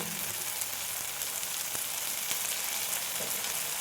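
Tomato masala for chickpea kurma sizzles and fries in a pan, a steady close hiss with a few faint utensil taps, no talk.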